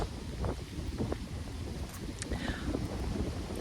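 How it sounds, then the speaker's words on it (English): Steady wind buffets a microphone outdoors on a breezy day, a continuous low rumbling roar with gusty fluctuations throughout and no voices. "So the wind is, it's probably making it hard for y'all to hear me."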